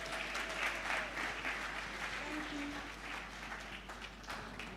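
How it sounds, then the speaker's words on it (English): Audience applause at the Whitefield Foundation 20th anniversary event, following an introduction of the foundation's founder and CEO; steady broadband clapping from a crowd, moderately loud and continuous, fading slightly toward the end. "A round of applause, please."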